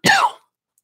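A single short, sharp cough bursts out after someone chokes while swallowing, lasting under half a second before silence.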